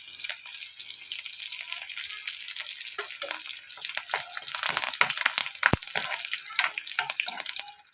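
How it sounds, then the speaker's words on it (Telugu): Crushed garlic and curry leaves fry in hot oil with mustard and cumin seeds, a close bright sizzle with crackling pops that builds toward the end. "ఇవి ఇలా ఫ్రై అవుతున్నాయి కదండి"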